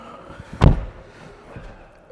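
A single solid thud of a Lamborghini Revuelto door shutting, heard from inside the car, followed by a quiet cabin.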